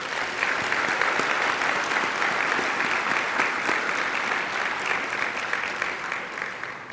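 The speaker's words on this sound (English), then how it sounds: "Let's give them a round of applause," A college convocation audience gives graduates a sustained round of applause, a broad, even wash of many hands clapping in a large hall, holding steady and easing slightly at the end.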